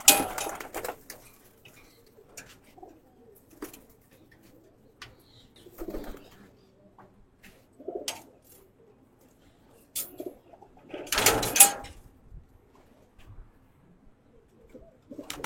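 Racing pigeons in a loft during their moult, with a few soft coos and scattered flutters and bumps. Several louder bursts of wing-flapping stand out against a quiet background, and no one speaks.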